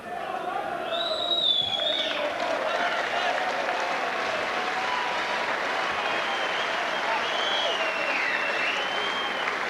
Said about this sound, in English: look at the reaction from the Yorkpool crowd